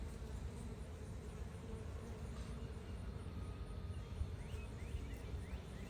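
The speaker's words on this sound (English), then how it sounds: "This is going to be a pretty good sized swarm, and it is a swarm." A good-sized swarm of honey bees hums in a steady, dense drone close by, a continuous buzzing wash with no talk over it.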